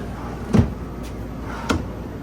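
Cupboard-style drawer in a 2025 Palomino SolAire 2430BHS bunkhouse travel trailer slid shut, giving two short, close knocks about a second apart over a quiet room.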